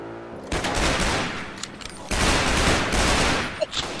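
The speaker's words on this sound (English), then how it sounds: "Fired! Shots fired at the police." Rapid bursts of gunfire aimed at police during a chaotic video game shootout, dense overlapping shots in two loud volleys, with a louder single crack near the end.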